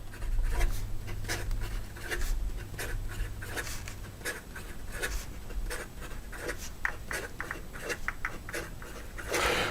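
A Wancher Maki-e fountain pen writes quickly on paper, making a continuous close-up scratch of rapid strokes with a steady rhythm of short nib scrapes.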